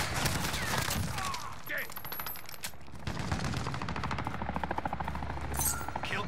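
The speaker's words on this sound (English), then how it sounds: "Allied chopper gunner arriving now." Helicopter gunfire from a chopper gunner killstreak in Modern Warfare, dense rapid bursts and rumbling rotor wash layered with game effects and brief voice chatter throughout.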